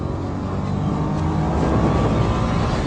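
A Nissan Juke's engine pulls steadily under throttle through a corner, a loud continuous drone heard from inside the car with no talk.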